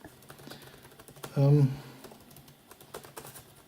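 Light typing on an Acer Aspire 3 15 laptop keyboard clicks along steadily at low volume, with a brief louder low hum in the middle.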